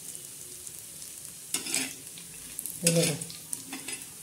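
Grated coconut dry-roasting in a pan for a black masala is stirred in two scraping, rustling bursts over a quiet background, and a voice speaks briefly.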